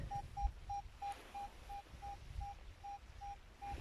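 A metal detector sweeps along a roadside and gives a clean, faint, steady tone that pulses in an even series of about a dozen short beeps, with no talk over it.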